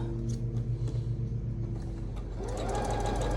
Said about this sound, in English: And I've been sewing ever since.